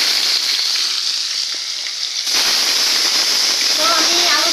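Potato pieces fry in hot oil tempered with cumin seeds and radhuni, giving a constant close sizzle that surges louder about halfway through and then holds steady with some crackling.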